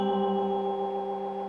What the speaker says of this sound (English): Different echoes, analog echo, a beautiful noisy echo